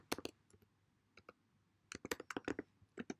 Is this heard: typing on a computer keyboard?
yes